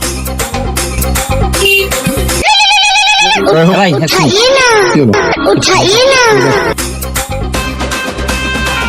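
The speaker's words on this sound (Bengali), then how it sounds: "ফোন করেছে তো তোল" A telephone ringtone plays in a Bengali horror drama, sounding as a short bright tonal burst among voices, with people talking loudly around it throughout.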